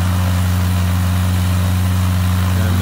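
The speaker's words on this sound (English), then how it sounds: "You'll notice a very different sound to the engine. Much deeper. The exhaust is quite a bit larger." A Kitfox light aircraft engine fitted with a larger exhaust gives a deep, steady drone at idle. It is loud and close, with a constant low rumble and no talking.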